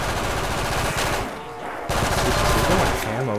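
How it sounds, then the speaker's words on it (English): Loud automatic machine gun fire in a zombies video game, rapid bursts close up with a brief gap in the middle, a voice speaking over the shooting. "This gun is so loud."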